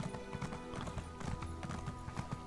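In The Elder Scrolls Online, a horse's hooves clip-clop in a quick, even rhythm at low volume, with game sounds faintly in the background.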